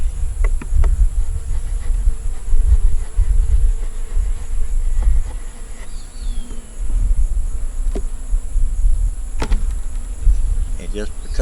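Honeybees at a queenless hive buzz loudly and steadily up close, a dense droning hum that never lets up, with occasional clicks and knocks.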